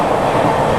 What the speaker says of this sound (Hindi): देखिए हमारी ट्रेन रेलवे स्टेशन को क्रॉस करते हुए फुल स्पीड में।